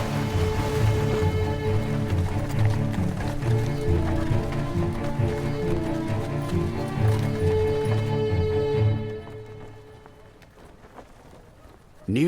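Harness horses move along with a busy run of hoof beats and rhythmic clip-clop over a full background, fading to near quiet toward the end.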